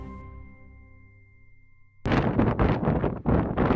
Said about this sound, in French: vous l'entendez, il y avait beaucoup de vent ce jour-là